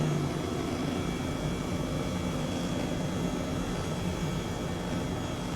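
An H135 helicopter engine in Microsoft Flight Simulator drones steadily throughout, a constant, even roar with a faint high whine and no voices.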